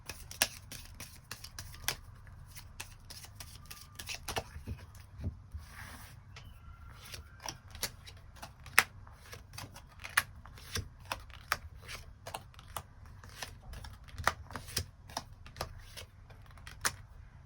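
Tarot cards are shuffled and drawn for a weekly reading, a long run of crisp, close riffles and sharp card snaps at an irregular quick pace, steady and fairly quiet, with no voices.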